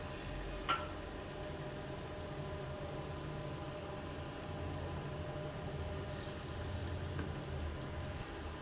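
Sweet ponganalu batter of wheat flour and jaggery cooks in oil or ghee in a pan with a faint, steady low sizzle and a couple of small metallic clinks.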